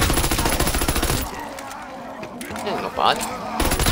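Bechowiec submachine gun in a WWII shooter game firing a rapid, loud burst for about a second, then a quieter stretch with faint game noises as someone speaks briefly, and a second burst of fire at the very end.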